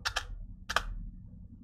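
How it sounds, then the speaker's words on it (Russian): Two sharp clicks from the Enter key on a computer keyboard, one press shortly after the other, close and crisp over a quiet room hum. "Два раза кликаем Enter."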